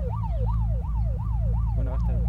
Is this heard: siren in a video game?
yes